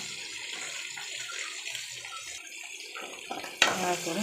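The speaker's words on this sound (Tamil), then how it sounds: "நல்லா கொதிக்குது மண் சட்டியில்" Sprouted green gram lentil gravy with onion, tomato, dried chili, cumin and asafoetida simmers in a clay pot, giving a close, steady bubbling sizzle that ends with a brief clatter.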